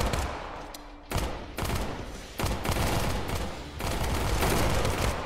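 Full-auto gunfire in a tactical VR shooter video game, loud continuous bursts of rapid shots broken by a few short gaps, close and dominant with no talk.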